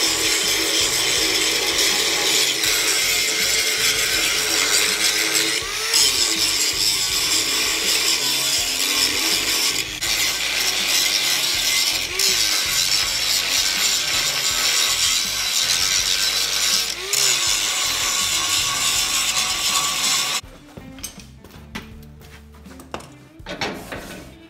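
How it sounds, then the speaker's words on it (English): An angle grinder works over welded metal on a homemade dust collector blower built from a Billygoat debris loader, giving a loud, continuous harsh grind with brief dips and shifts before it cuts off near the end, leaving scattered clanks. "We're gonna do a little bit of grinding, cleaning it up"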